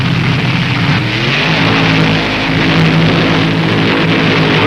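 A top fuel dragster engine roars down a quarter-mile drag strip, its engine spitting fire and losing power: a loud, continuous, close engine roar with a steady rumbling drone throughout.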